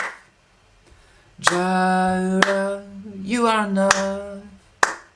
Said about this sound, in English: you can always try clapping along to the changes like this